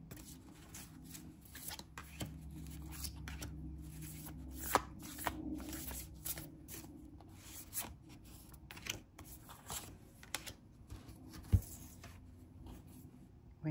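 A Moonology Messages oracle card deck is shuffled by hand in a quiet room, giving soft, repeated papery riffles and slides with a few sharper taps, close and faint, no talking.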